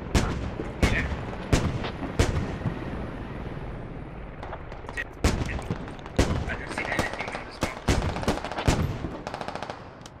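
Automatic gunfire in the tactical shooter Squad during a large battle: sharp, loud bursts and single cracks repeat irregularly over a continuous rumble, with short rapid strings near the end and talk faintly underneath.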